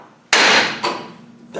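A hammer strikes metal swivels on a Ghana 110 under repair, one sharp loud clanging blow followed by a second lighter hit and a faint third, ringing close by with no talk.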